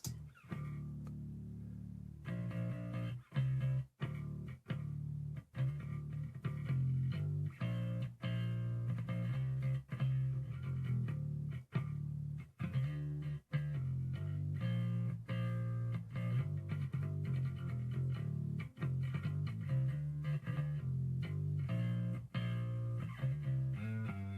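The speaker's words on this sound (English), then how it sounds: "here's the sound of the bass together" A busy bass guitar line, amp and DI tracks combined, plays continuously, full and prominent, with quick melodic runs and brief gaps between phrases.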